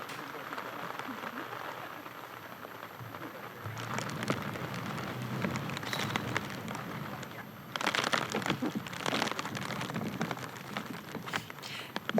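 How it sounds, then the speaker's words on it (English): Steady rain falls on a disc golf course, a dense wash of hiss that swells heavier midway and again near the end, with no talk over it. "the rain is just still coming down"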